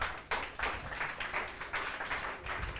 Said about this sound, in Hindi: चलिए ताली बजाइए इंस्पेक्टर साहब के लिए।